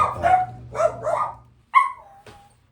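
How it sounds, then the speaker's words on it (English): Three pet dogs bark at home, giving several sharp, close barks in quick bursts followed by a couple of shorter yips, with a low hum underneath. "got a little distracted by 3 loudmouth dogs we have"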